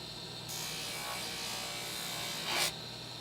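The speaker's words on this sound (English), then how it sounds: "I'm being careful to put it to the wheel buff, take it away from the wheel buff." A convex oval piece pressed to a spinning buffing wheel gives a steady, close whirring rub for about two seconds, ending in a louder scuffing burst before the wheel noise cuts away.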